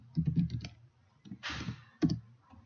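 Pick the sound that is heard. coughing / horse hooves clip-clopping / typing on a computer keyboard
typing on a computer keyboard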